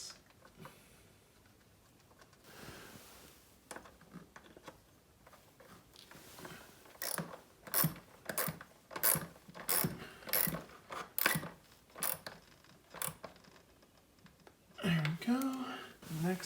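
A hand ratchet clicks in quick bursts while tightening screws on a car's MAF sensor housing, with rapid sharp pawl clicks repeating close by against a quiet background.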